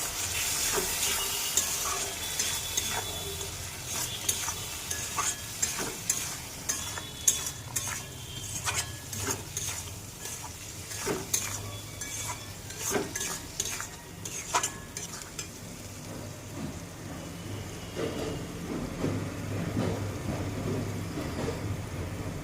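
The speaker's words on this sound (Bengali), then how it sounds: "এবার টমেটোর পেস্টটা দিয়ে দিলাম। একটু নাড়িয়ে নিলাম।" Tomato paste sizzles and fries in a pan over spices while a utensil stirs and scrapes it in irregular clicks, with a steady close hiss throughout and no talking.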